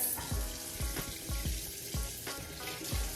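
Water rinses face cleanser off the skin: soft, close splashes come in a quick, irregular rhythm of about eight scoops over a faint running-water background.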